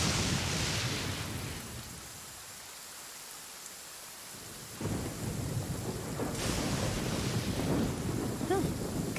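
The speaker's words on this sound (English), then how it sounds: "It's raining again?" Heavy rain and rolling thunder in the video game Genshin Impact, a dense steady downpour with wind gusts and a loud rumble swelling up midway, close and enveloping.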